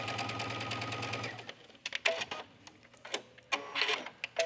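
A sewing machine runs close up, stitching lace onto the wrong side of fabric, with a fast steady rattle for over a second followed by intermittent clicks and short handling noises.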